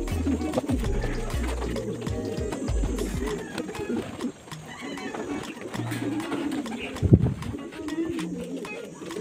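Soft pigeon coos repeat at a low pitch amid rustling and fluttering, with some faint voices and bumps nearby.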